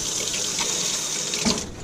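A kitchen faucet runs steadily while something is rinsed off during chilaquiles cooking, a loud close hiss of water with a brief splash near the end, no talking.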